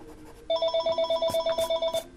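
A telephone rings indoors with a rapid electronic trill, repeating in quick pulses for about a second and a half after a soft lead-in, fairly close and clear with no talking.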